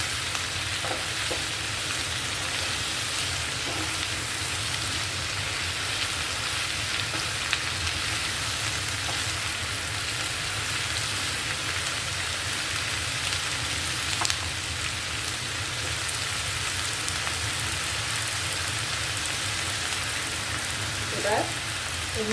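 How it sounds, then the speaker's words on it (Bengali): Four chopped tomatoes fry in a pan for a paneer makhana dish, giving a steady, dense sizzle like rain with occasional soft scrapes of stirring throughout. "4টে টমেটো দিয়ে আবার একটু নেড়ে দিচ্ছি"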